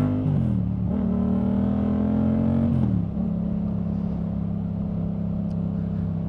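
A motorcycle fitted with an aftermarket exhaust idles close by, then its engine is revved and climbs in pitch for a couple of seconds before settling back to a steady rumble.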